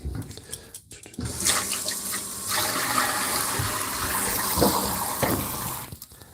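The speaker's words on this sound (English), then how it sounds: "I'm going to clean this pan out." Tap water runs and splashes into a sink while a frying pan is cleaned, close and fairly loud, with brief clatters at the start and end.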